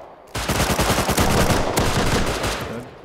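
A sustained burst of rapid submachine gun fire in Rust, an MP-style weapon rattling off shots in a fast even stream for nearly three seconds, loud and close, then cutting off abruptly.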